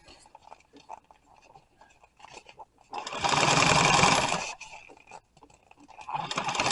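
A sewing machine stitches boat seat upholstery, a loud steady run of about a second and a half after quieter handling noises, with another burst starting near the end.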